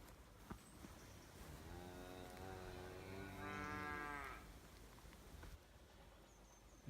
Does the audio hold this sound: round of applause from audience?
no